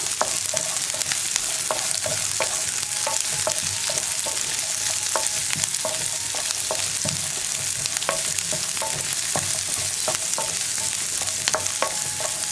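Onion and green chilli frying in a pan, with a steady bright sizzle under rhythmic scrapes and taps of a spoon stirring, close and continuous with no voices.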